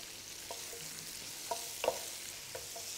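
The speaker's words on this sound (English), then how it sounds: "Vegetables are cooking nicely." Spring onions and zucchini fry in oil in a pan, a steady close sizzle with a few clinks of stirring, and no one talking.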